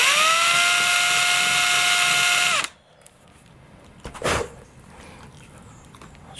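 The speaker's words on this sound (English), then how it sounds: "I'm just going to go straight for drilling" A small power drill fitted with a 1/16 inch bit whines steadily and loudly for about two and a half seconds while boring servo mounting holes in a model glider, then stops, followed by a quiet pause and a brief handling clatter.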